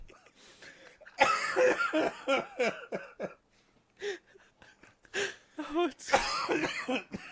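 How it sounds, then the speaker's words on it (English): Several harsh, barking coughs come in close bursts with short pauses between, some rough and throaty with a bit of voice mixed in. "I tried my hardest not to cough, and my cough got so much worse."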